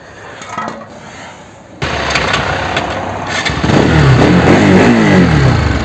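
A Bajaj NS/RS 200 motorcycle, just repaired after a broken oil filter cap bolt, cranks and fires up, then idles loudly nearby and rises in revs toward the end.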